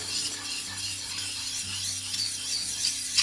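The back of a drawknife is rubbed back and forth on a sharpening surface, a steady, close, gritty rasping that swells and fades with each stroke over a faint low hum.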